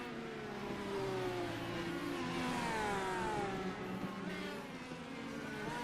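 Race cars at Long Beach drone together in a continuous layered engine roar with pitch sweeps as they accelerate through lap traffic, fairly distant and steady.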